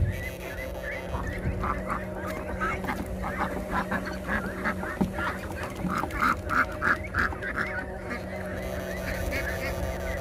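A flock of ducks quacks steadily and repeatedly in an open rice paddy during field fishing, with a continuous, overlapping chorus of calls at moderate distance and no talk.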